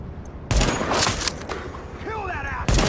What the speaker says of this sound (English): I'll use my sniper rifle here.